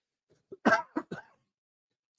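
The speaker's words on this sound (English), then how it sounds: "Had that cough come in right as I was trying to do it" Two or three short, harsh coughs in a quick burst, close and fairly loud, followed by silence, during live football play-by-play commentary.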